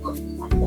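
Clucking from a flock of native hybrid chickens, a short low murmur of hen sounds that swells louder in the second half, close by with no talking.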